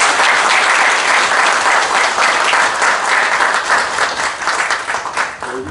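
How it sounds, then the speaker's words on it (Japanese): A loud, dense wave of applause fills a memorial gathering hall at Yasukuni Shrine as the crowd welcomes a keynote speaker, steady and close throughout before easing slightly at the end. "皆様大きな拍手でお迎えくだ さいませ"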